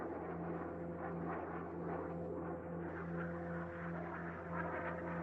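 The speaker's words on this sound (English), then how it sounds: "that's what they call an Azrael. An Azrael drone." A hovering Azrael drone from the video game Ghost Recon Breakpoint gives off a steady, droning engine hum with a constant low tone, held evenly and alone throughout.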